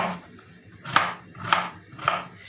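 A knife cuts potatoes on a board in three evenly spaced, sharp chopping knocks over a low background hum.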